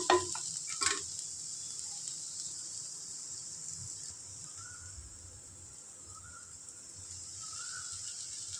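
Onion and soya chunks frying in a pan give a steady, thin hiss. A brief clatter of stirring comes at the start, and then the sizzle carries on quietly and evenly with no talking.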